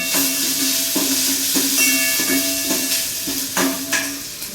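Chopped onion sautéing in hot oil in a pan for a spinach dish, with a steady close sizzle and hiss broken by regular scraping stirs about every half second.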